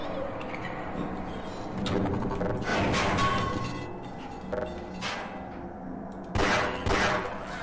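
Gunfire in Half-Life, shot through bars, comes as a few muffled bursts and thuds over a steady game ambience, with voices talking over it.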